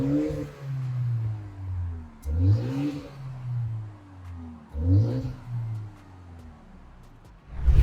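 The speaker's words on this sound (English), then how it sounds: "I'll just rev the car and show you what it sounds like." Mini Countryman JCW All4 with functional quad exhaust tips, revved three times in succession, each blip rising sharply then falling back to a low idle burble, close and loud with no talking.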